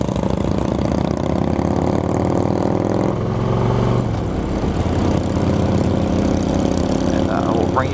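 Motorcycles on a group ride give a continuous engine rumble close by. The drone shifts slightly midway as the bikes cruise together, with some speech mixed underneath.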